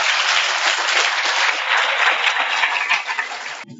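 Sustained applause from an audience at a political anti-war rally, welcoming a speaker to the podium; dense steady clapping that stops abruptly near the end.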